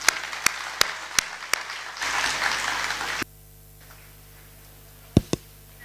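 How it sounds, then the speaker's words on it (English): An audience at a panel session claps for the speakers in a short burst of roughly a second, following several sharp isolated taps and falling into a quiet room with a couple of later knocks. "So a round of applause for everybody"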